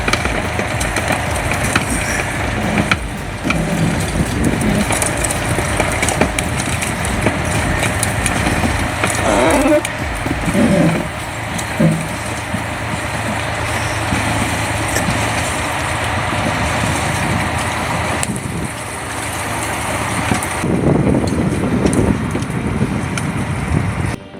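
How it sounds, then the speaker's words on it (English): The engine of a Hitachi EX 8000 mining excavator at a nickel mine in Australia drones in a steady, heavy, low rumble that stays fairly loud and unbroken throughout. "Meet the Hitachi EX 8000, one of the first giants to arrive in Australia's nickel mines."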